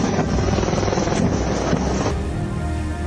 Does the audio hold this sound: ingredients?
no